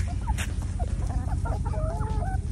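Growing farm chickens clucking outdoors, a scatter of short clucks from several birds nearby over steady low wind rumble.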